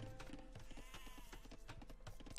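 Sheep in Age of Empires II bleat repeatedly amid busy game sound effects, faint and clustered in a quick uneven rhythm.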